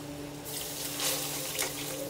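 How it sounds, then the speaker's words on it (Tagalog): Broth poured into a pan of sweet and sour chicken fillet, a steady close liquid trickle and splash running alone for about two seconds. "Bigyan ko pa ng konting sabaw."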